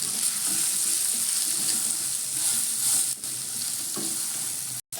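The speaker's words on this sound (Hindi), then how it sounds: "इन सारे मसालों को हम मिला लेते हैं।" Spices such as black pepper powder and roasted cumin being stirred and fried in a pan for amla chutney, a dense close sizzle with scraping stirs that continues steadily before a brief cut near the end.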